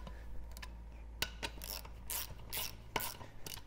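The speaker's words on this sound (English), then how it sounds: "I'm going to start tightening them in a crisscross pattern." A ratchet clicks in short bursts while tightening the bolts of a Tusk beadlock ring on a Polaris Ranger 1000XP UTV wheel with an Interco Sniper 920 tire, working in a crisscross pattern. The sound is close, with several separate rapid ratcheting runs.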